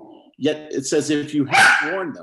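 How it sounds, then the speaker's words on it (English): An anxious dog barks and yips repeatedly at close range, its sharp calls overlapping a man's speech at a memorial service. "you'll have to pardon my dog"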